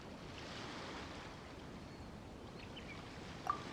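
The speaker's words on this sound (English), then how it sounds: "Oh, and the sound of the waves." Ocean waves at Liyue Harbor in Genshin Impact, a continuous soft wash of surf with a windy, airy texture, fairly faint and steady, with a brief small click near the end.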